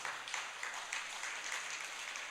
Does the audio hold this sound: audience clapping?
yes